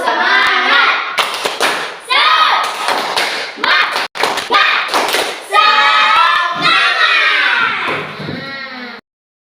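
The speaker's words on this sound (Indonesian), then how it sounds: "coba semangat dulu 1 kali. Tepuk semangat." A classroom group of Indonesian pupils performs a rhythmic clapping chant, loud bursts of claps mixed with shouted voices in a patterned sequence before stopping abruptly.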